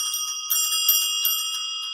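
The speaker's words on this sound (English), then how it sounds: "So these are sleigh bells" Antique sleigh bells fixed to a wooden block ring in a bright, close jingle, with a couple of shaken bursts and a shimmering metallic tone that lingers in between.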